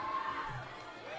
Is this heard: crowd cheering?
yes